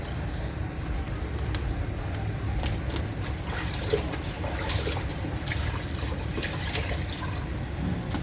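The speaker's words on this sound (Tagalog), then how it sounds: "kailangan mo rin siyempre yung banlawan para mawala yung mga dating alikabok" A car being rinsed with a water hose at a car wash: a continuous spraying, splashing rush of water striking the body panels, steady and close throughout with small splashy variations.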